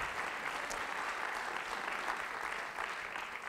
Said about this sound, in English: You're right to applaud